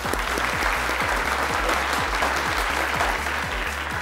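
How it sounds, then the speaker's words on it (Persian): Studio audience applause on a Persian-language Family Feud game show, a steady wash of many hands clapping over a pulsing low rhythmic music beat. "تشویق کنین."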